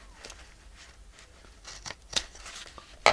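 Scissors snip through paper while trimming a handmade autumn journal cover, a string of soft close-up cuts that ends in two sharper, louder snips.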